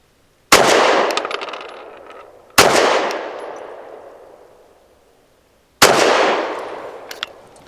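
Three loud, sharp pistol shots from a SAR9 SC Gen 3 firing Blazer 100 grain low recoil ammunition, spaced about two to three seconds apart, each with a long ringing decay and no talking.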